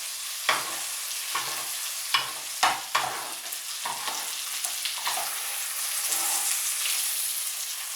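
A veal chop sizzles loudly in a hot pan while being basted with fat, a steady close frying hiss broken by sharp clicks and spoon scrapes, with no voices.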